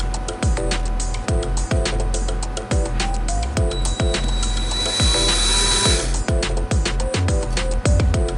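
Power drill driving a screw into the driver door latch of a Chevy Blazer, loud and close, with steady motor whine and a rapid, regular ratcheting clatter running throughout.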